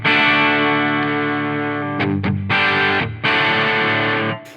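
An electric guitar played through the Soldano SLO-100 push channel on a Line 6 Helix, loud, sustained distorted chords that ring out with a few quick rhythmic breaks before fading at the end.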